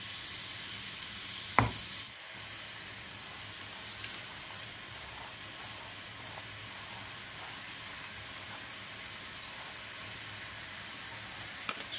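Minced-meat kefta frying in a pan gives off a soft, steady sizzle and hiss, faint and continuous, with one sharp utensil clink near the start and a few light taps later.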